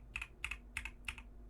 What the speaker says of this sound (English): you can probably hear my mouse and keyboard really well